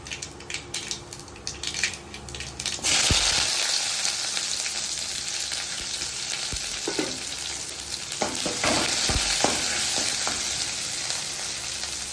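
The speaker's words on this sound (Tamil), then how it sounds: "கடுகு வெடிக்கட்டும்" Hot oil sizzles loudly and steadily, with sharp pops and crackles as mustard seeds splutter in the pan, close up and without talk.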